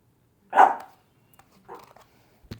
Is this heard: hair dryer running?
no